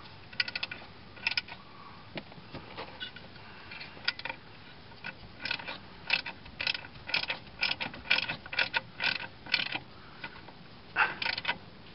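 A hand wrench tightens a 10 mm bolt while a car horn is installed, giving close, quiet bursts of ratcheting clicks in irregular clusters with short pauses between.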